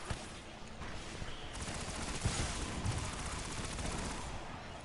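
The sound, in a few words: gunfire in video game Destiny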